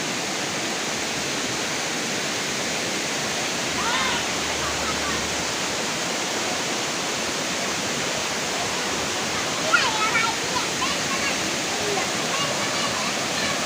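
A steady, dense roar of falling water from the Nang Khruan waterfall in Tak, Thailand, fills the air, constant and loud, with faint voices briefly underneath.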